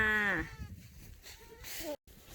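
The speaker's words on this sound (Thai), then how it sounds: "ฝูงแพะกำลังเดินมา" A goat in a herd walking up at a farm lets out one close, quavering bleat, followed by fainter rustling and a brief higher cry.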